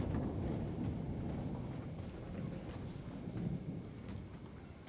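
Low rumbling thunder rolls continuously beneath steady rain, a dense, moderately loud storm with no voices, in a horror short film.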